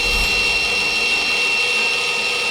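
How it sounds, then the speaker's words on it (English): A Curbsider crane hoist boom extends with a steady, loud mechanical whine and motor drone that holds constant throughout. "I just simply press the extend button"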